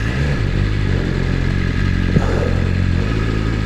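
A 2019 BMW S1000RR superbike engine idles loudly and close by with a steady throbbing rumble and a brief clack partway through, no talk.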